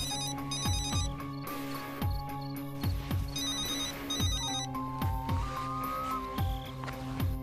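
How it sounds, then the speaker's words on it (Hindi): A telephone rings on and on without being answered, its electronic ringtone repeating in steady bursts over a rhythmic backing of low thumps, loud and close with no talk. "काफी देर से ये फोन बज रहा है मगर हमने नहीं उठाया सर"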